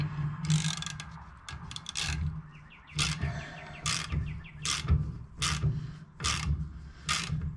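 A brake line flaring tool is screwed down onto new brake tubing, giving a series of evenly spaced metallic ratcheting clicks, close and fairly quiet, with no talking.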